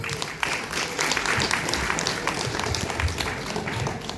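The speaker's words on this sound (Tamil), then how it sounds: "உங்கள் கரகோஷத்துக்கு" A crowd at a Tamil cultural association's arts festival applauds continuously, a loud, dense roar of clapping that holds steady through the whole stretch.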